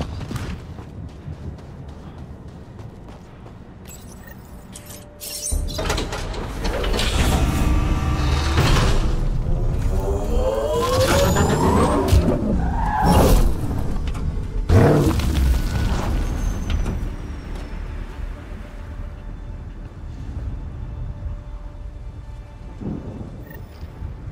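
Nomad all-terrain vehicle driving in Mass Effect: Andromeda, a heavy rumbling engine and rough terrain roar with thumps and booms, quiet at first then surging loud for the rest.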